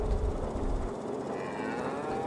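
Cattle on a farm let out a low, rumbling moo at the start, then the sound falls back to quieter background noise.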